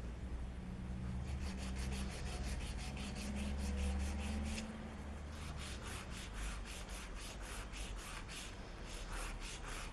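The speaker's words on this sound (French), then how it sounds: "J'utilise une lime ici de 100 à 180, il me semble, de 90 à 180." A hand file with roughly 90 to 180 grit rasps along the side edges of acrylic nails in quick, steady repeated strokes, close up and fairly continuous, with a low background hum and no speech.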